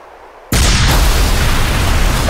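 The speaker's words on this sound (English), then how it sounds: "The chopper blew." In ARMA 3, a helicopter explodes in one sudden, very loud blast after a brief quiet moment, followed by a sustained roaring rumble that fills the rest of the moment.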